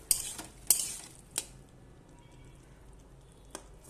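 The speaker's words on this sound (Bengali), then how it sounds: "তো বন্ধুরা, ঢাকনা খুলে দেখে নেব সেদ্ধ হয়েছে কিনা।" A lid lifted off a pot of boiling potatoes, heard as a few sharp metallic clanks and clinks close by, then quiet low bubbling.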